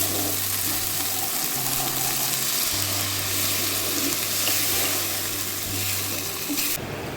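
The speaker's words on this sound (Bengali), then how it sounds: "মশলাটা কষানো হয়ে গেছে, তেল ছেড়েছে, এবার জল দিয়ে দেবো।" Water is poured into a fried spice paste sizzling in oil for a Bengali koi fish curry, giving a steady, close hiss and crackle with a faint watery stir running throughout.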